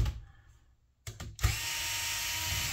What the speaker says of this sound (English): take these two screws out